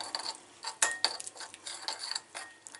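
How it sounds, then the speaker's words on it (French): A spoon stirs anti-spot face mask ingredients, including lemon peel, in a bowl, giving light, irregular clinks and scrapes of metal against the dish, close and fairly quiet, with no talking. "Tout doucement, on va mélanger les ingrédients."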